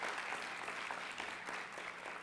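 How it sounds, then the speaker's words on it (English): An audience at a youth volunteer awards ceremony gives a round of applause for an honoree walking up, a continuous, fairly soft crowd clapping that holds steady throughout. "Big round of applause for her."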